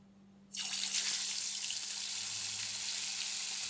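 Fish drops into hot oil in a pan and starts frying. A loud, steady broadband sizzle begins abruptly after a quiet moment and keeps going close up.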